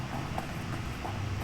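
Horse hooves clip-clop in a fantasy video game set in Clockwork City, a quiet, steady trot heard faintly under a low ambient drone.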